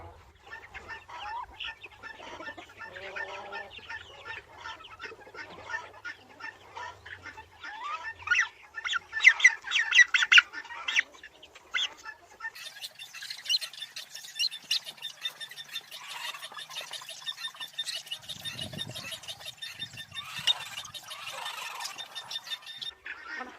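A turkey hen and a tom turkey call in a farmyard pen, a long run of rapid clucking and gobbling that swells and eases, close and fairly loud, with no talking.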